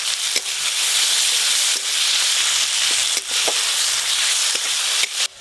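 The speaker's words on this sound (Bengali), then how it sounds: "মশলা খুব ভালো করে কষানো হয়ে গেছে" Spices with chopped tomato and salt sizzle loudly in a pan for cauliflower curry, a steady close hiss broken by occasional clicks and scrapes of stirring.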